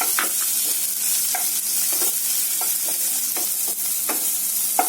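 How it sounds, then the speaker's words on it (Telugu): Onions and green chillies sauté in a pan, a steady broadband sizzle with repeated scraping strokes of a spatula stirring through, close and continuous with no voices. "అలాగే ఆనియన్స్, గ్రీన్ చిల్లీ కొంచెం సాట్ చేసుకుందాం."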